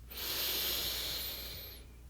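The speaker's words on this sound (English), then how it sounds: "Breathe in and breathe out." A single long, steady breath during a yoga session for back pain, close and hissy, lasting about two seconds with no talking.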